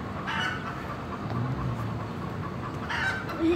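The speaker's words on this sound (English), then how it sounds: "The baby chicken is still alone." A baby chicken peeps and chirps in a few short, thin bursts, with some fowl-like clucking over a steady low background hum; fairly close and moderately loud.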